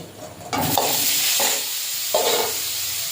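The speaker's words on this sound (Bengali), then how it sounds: "ঝোলের আলুটা ভেজে নেব।" Potato pieces fry in hot oil in a kadai for a fish curry, a loud steady sizzle that swells in bursts as they are stirred and turned.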